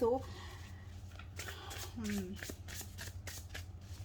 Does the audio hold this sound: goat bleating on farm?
no